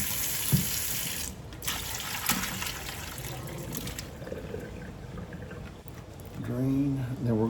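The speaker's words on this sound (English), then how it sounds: "Drain, and then we're going to rinse them one more time." Water runs and trickles as pickles are rinsed and drained in a kitchen colander, a steady close splashing that dips and swells, with someone speaking near the end.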